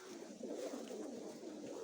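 Mykolaiv pigeons in a village loft coo softly, a low murmuring warble that is faint and continuous, with no talk over it.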